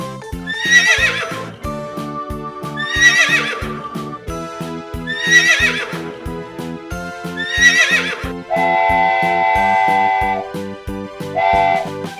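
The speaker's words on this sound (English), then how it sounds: "This is horse." Horse whinnying loudly several times in a row, each shrill neigh rising and falling, over a steady rhythmic clip-clop of hooves, with a long held whistle-like tone near the end.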